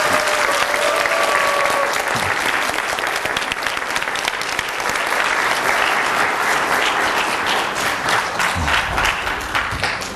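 Audience at a Korean church evening gathering breaks into dense, sustained applause that stays loud and even throughout, with a few faint voices mixed into the clapping.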